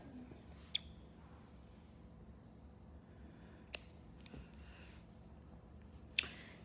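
Scissors snip through crochet yarn used for doll hair: three crisp, isolated cuts spaced a few seconds apart, close to the microphone, over a quiet room hum.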